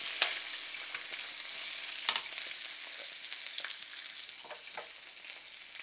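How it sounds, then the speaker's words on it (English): Green chili sizzles in a hot frying pan, a soft steady crackling hiss with a few brief pops and stirring clicks, fairly quiet and close, no voices. "You let that sizzle for a minute."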